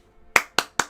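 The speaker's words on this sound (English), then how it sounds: "I'm gonna clap for you too" Three sharp hand claps in quick, even succession, crisp and fairly close, with no talking over them.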